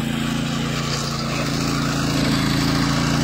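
Engine of a motocultor walk-behind tractor running steadily while working tall wet grass, a continuous loud droning hum with a constant throb and no talk.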